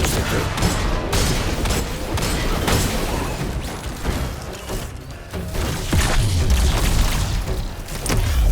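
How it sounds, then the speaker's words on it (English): Continuous bursts of gunfire and booming impacts fill a Destiny 2 boss fight as shots hammer at the boss's crystals, dense and loud throughout with crashing hits layered in. "I gotta shoot his crystals."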